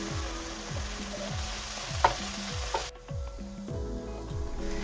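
Seasonings for vegan mushroom gravy toast in a pan with a steady close sizzle, while a utensil scrapes and stirs in a regular rhythm about twice a second.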